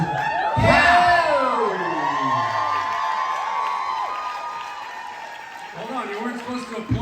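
A live audience erupts in loud cheering, whoops and clapping that swell at the start and then taper into scattered applause and shouts, with voices calling out over the noise.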